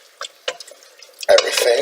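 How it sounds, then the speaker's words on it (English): Pasta being stirred in a pot with oil or fat for Maltese toqlija pasta soup: a few light scrapes and taps, then a louder, continuous sizzling stir lasting under a second. "Stir those around with"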